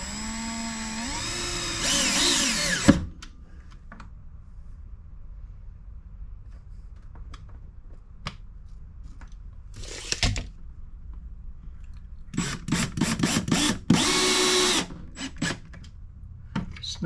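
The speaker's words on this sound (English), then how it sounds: "and then we'll put some screws in it" A power drill runs in several bursts driving screws to mount an LED light fixture inside an RV, with a longer whir at the start, one short burst midway, and a run of quick stuttering pulses near the end, close and loud over quiet pauses.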